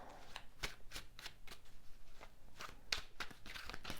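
Tarot cards shuffled by hand, a run of quick riffling flutters and soft slaps repeating fairly close at low level, with no talking.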